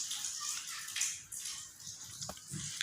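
Water is poured into a bowl in a home kitchen while making street-style pani puri, a soft continuous splashing and trickling that stays fairly quiet, with no talking.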